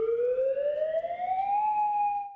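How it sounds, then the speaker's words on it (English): Warning siren for a missile threat or severe weather in Oklahoma, a single steady wailing tone that rises slowly in pitch and then holds, loud and continuous with no talk. "can be used in case the sirens sound for a missile threat"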